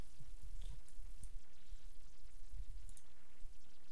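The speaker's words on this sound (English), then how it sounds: "And light rain just doesn't match with my mod that well, because it doesn't even sound this loud in the game." Light rain weather ambience from the video game Skyrim, a steady soft hiss of drops with low rumbling patter, fairly loud and constant with no voices.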